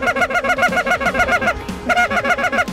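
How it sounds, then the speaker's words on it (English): A flock of Canada geese honks loudly and continuously during a snowy goose hunt in Lubbock, Texas, overlapping calls in a rapid, rhythmic chorus with a brief dip near the middle. "hunting these Canada geese."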